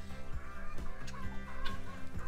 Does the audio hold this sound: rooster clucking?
yes